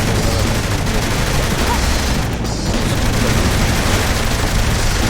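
Gunfire in Saints Row The Third Remastered, a dense, loud, continuous barrage of rapid shots and booms filling the whole stretch without a break.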